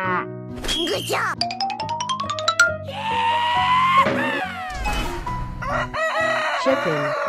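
A cartoon rooster crows loudly in a children's animation, a stretched cock-a-doodle-doo call mixed with clucks, bleats and bright music and effects.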